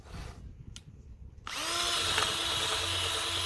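A power sander works a new Lodge cast-iron skillet with 320 grit, starting after a quiet stretch of faint rustling and then holding a steady whirring grind to the end.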